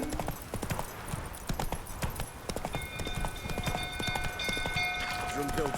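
Roach the horse trots in The Witcher 3 as hooves clip-clop in a quick steady rhythm, close and continuous under game voices and background commotion, with a faint tonal ringing midway.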